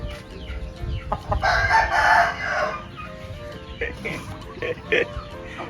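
A rooster crows loudly nearby, with chickens clucking and squawking around it and people talking in the background.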